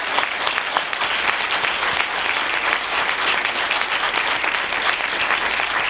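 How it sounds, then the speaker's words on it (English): Steady, sustained applause from an audience at the close of a school reform Q&A event, dense and even from start to finish with no talking over it. "Let's give them a big round of applause."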